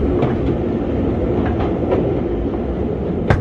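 A train rolls along the tracks with a continuous loud rumble and faint clicking wheel beats, ending in a brief sharp metallic squeal. No one speaks.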